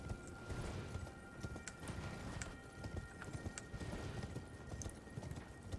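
Horse hooves clip-clop steadily at a trot in Elden Ring, close and continuous over ambient game sound, with no speech.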